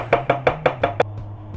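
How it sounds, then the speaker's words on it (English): A kitchen knife chops mushrooms for ramen: six quick, evenly spaced chops land close up on a cutting board before the cutting stops. "If you're chopping like this, just make sure you use your fingernails to guide your knife"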